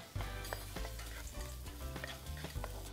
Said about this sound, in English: Going to stir it a little bit longer, and then we're going to add our peppers to that.